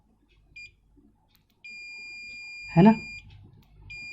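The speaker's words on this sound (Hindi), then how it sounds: "मल्टीमीटर के दोनों प्रोब को आपस में टच करने पर बीप सुनाई देता है।" A digital multimeter in continuity mode gives a steady, shrill electronic beep as its two probes touch, held for a couple of seconds near the mic with a short burst of speech cutting in partway.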